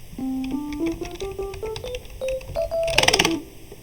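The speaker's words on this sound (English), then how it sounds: "I choose electric piano. See how this sounds." Electric piano from a lofi song pack plays a stepwise rising run of clear tones, ending in a brighter, denser burst of notes near the close.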